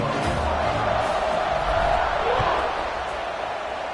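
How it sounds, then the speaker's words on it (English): A stadium crowd roars steadily in College Football 26 as Boise State visits California for the kickoff, a dense, loud wall of cheering that holds throughout with a few thumps underneath. "They're set to kick it off, and this crowd now ready to get behind them."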